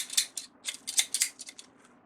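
Scissors snip through ribbon for a deco mesh Christmas wreath in a quick series of about a dozen crisp, close cuts, uneven in rhythm and fading toward the end, with no voices.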